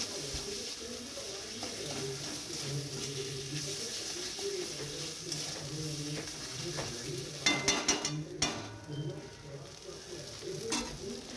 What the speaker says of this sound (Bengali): এবার ভালো করে নেড়ে নিচ্ছি, ভালো করে কষিয়ে নেওয়ার পালা।